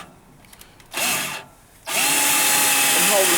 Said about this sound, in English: Now we're going to drill the holes for the bolt to go through.